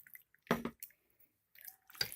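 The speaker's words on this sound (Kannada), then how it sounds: "ನೋಡಿ, ಸ್ವಲ್ಪ ನೀರು ಹಾಕ್ಕೊಂಡು" Water splashes in two short bursts into a pressure cooker holding cut chicken liver with salt and turmeric, close and quiet, with silence in between.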